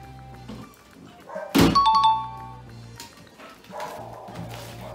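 A bubble popping in slime mixed with toothpaste: one sharp, close, loud pop-thunk near the middle, with faint handling noise before and after.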